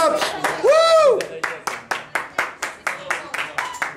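A crowd at a KMDSZ versus KAPSZ sports match bursts into applause with cheers and a whistle, then settles into rhythmic clapping in a steady beat, with voices calling out in Hungarian over it.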